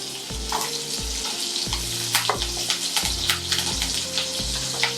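Cut green chili drops into hot sunflower oil and fries with a strong, crackling sizzle, while regular scraping strokes of a spatula against the pan beat a steady rhythm over it, close and fairly loud.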